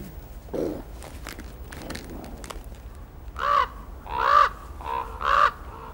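A few harsh, croaking raven calls, loud and close, at a wolf pack's kill in Yellowstone, coming in a short series after quieter rustling and scuffing.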